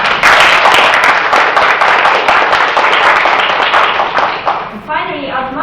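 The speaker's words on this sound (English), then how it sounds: "Please give all contestants a big round of applause." Audience applause for the contestants of an English presentation contest, sustained loud clapping from a full hall that thins and fades toward the end as a voice begins speaking.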